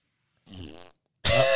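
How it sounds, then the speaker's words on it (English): Two short, blaring fart-like blasts, the first wobbly and buzzy, the second louder and brighter, separated by a brief silence. "there's the fart noise"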